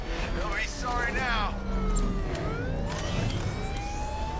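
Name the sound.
police car siren in the video game Batman: Arkham Knight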